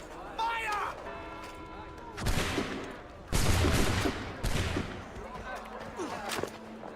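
A musket volley in Assassin's Creed III: after a quiet start, three loud, sharp blasts of massed gunfire crack out in quick succession, then fade into ambient noise.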